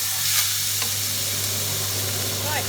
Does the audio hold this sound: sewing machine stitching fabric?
no